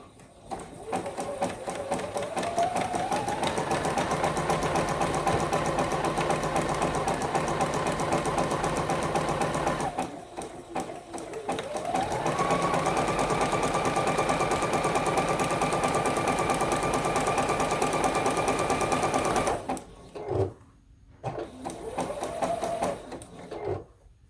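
A sewing machine runs a zigzag stitch along a fabric edge while piecing a quilt block, a loud close whirring hum that speeds up in long sustained runs, pauses briefly, then resumes in short bursts at the end.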